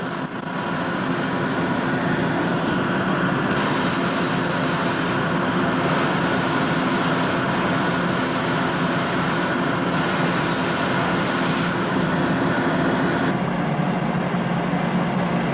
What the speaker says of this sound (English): Just thank God for this vacuuming bench, boy.